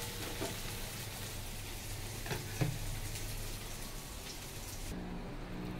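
Whole spices such as cardamom, cinnamon and cloves fry in hot oil in a pan, giving a dense, steady crackling sizzle with a few sharper pops, and no one talking.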